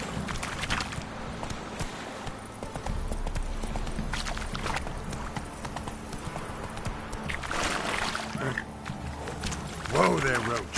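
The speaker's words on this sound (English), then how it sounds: "Whoa there, Roach." Horse hooves clip-clop steadily on the ground in The Witcher 3, a continuous rhythmic trot under game ambience, with a voice speaking near the end.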